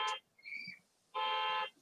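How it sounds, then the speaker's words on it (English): A house alarm sounds in loud, harsh electronic buzzing bursts, a short blast, a brief fainter chirp, then a longer blaring tone, with quiet gaps between them and no talk. "my kid set off the alarm"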